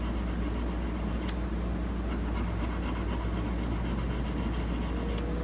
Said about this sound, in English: I like to put the polish on there just because I think it helps things a little bit.